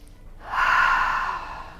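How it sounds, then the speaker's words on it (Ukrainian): A single deep breath drawn during yoga exercises, a soft, airy rush that swells after a quiet moment and slowly fades, close and alone. "Вдих, видих. видих."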